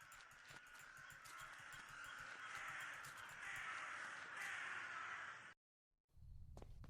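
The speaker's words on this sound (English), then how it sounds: "Could hear all of the birds." Crows caw repeatedly in a foggy scene of The Last Door video game, a chorus of harsh calls over a steady hum, ending abruptly in a moment of silence before low sound resumes.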